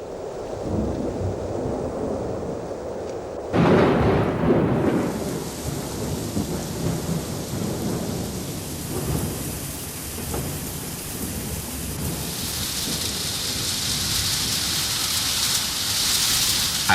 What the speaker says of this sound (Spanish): Aquí cuando llueve, diluvia.